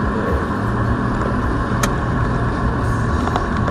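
A gray Volkswagen car gives a steady, loud drone of engine and road noise without letup, with a couple of faint clicks along the way.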